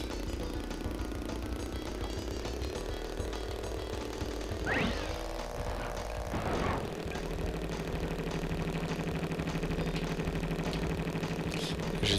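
A kart engine drones steadily through a racing stage of Crash Bandicoot 3, with a constant mid-pitched hum broken by two short rising whooshes, no talk.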